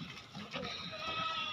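A goat on a goat farm raising heavyweight animals for Qurbani gives a couple of short, wavering bleats close by, amid farm background noise.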